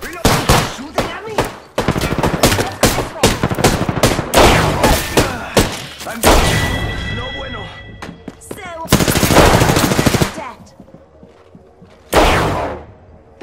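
Video game gunfire: rapid automatic bursts and repeated shots, loud and close, broken by short pauses and heavier blasts, with game sounds mixed in.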